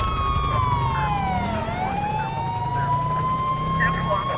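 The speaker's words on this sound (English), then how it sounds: "we'll go ahead and cut sirens" A police car siren from the video game GTA 5 wails loud and close, its pitch sweeping down and back up in a steady cycle, with faint talk in the background.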